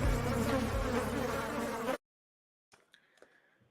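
A housefly buzzes loudly and close in a basement for about two seconds, a dense droning hum that cuts off abruptly, followed by a few faint, brief sounds.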